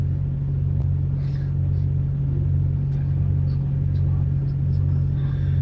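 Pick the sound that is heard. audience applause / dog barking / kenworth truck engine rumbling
kenworth truck engine rumbling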